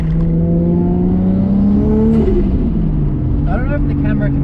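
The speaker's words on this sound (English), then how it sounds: "That raspy exhaust note is still there, so if you listen here down low" A race car engine idles and revs low with a raspy exhaust note, loud and close, rising briefly in pitch and then settling, with what sounds like a voice over it.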